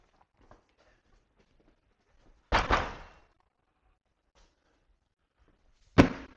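Two sharp, loud knocks or bangs at a door, a few seconds apart, in an otherwise quiet room with faint background noise.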